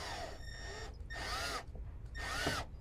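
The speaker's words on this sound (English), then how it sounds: "I'm gonna go ahead and put this on the drill." A power drill runs in three short bursts, snugging fuel filter housing parts on a 6.7 Powerstroke diesel, each whir rising and falling with brief pauses between, close and moderately loud.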